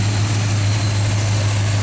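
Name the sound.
car engine idling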